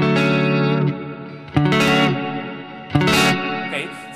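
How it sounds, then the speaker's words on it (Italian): Electric guitar played through a pedalboard with heavy reverb, sustained chords ringing out with long washy tails, restruck twice with sharp attacks; no talking. "ma se sul funk l'intervento del riverbero è minimo, ecco che in questo caso il suono è più riverberato"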